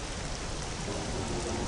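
Steady, dense hiss of acid rain pouring down on the stormy planet Vjun in the Star Wars Jedi Knight: Jedi Academy video game, broadband and unbroken throughout with no voices.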